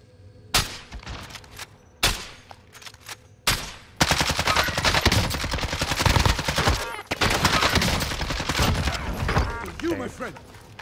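Gunfire rings out in the Warzone Resurgence duos video game, a few isolated shots followed by sustained rapid automatic bursts, loud and close, with players talking over the action.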